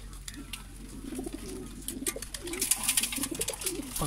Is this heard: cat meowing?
no